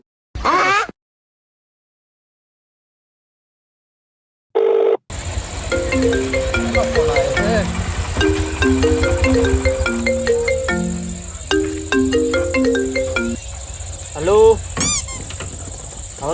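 A mobile phone ringtone plays a repeating synthesized melody for about ten seconds, close and clear over a steady background hum, after a couple of short electronic bursts.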